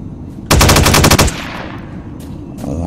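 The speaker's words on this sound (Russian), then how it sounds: "Вон, даже звук выстрела у автомата приятный." An assault rifle fires in S.T.A.L.K.E.R. with one loud, close burst of about ten rapid shots, followed by a decaying echo and quiet ambience.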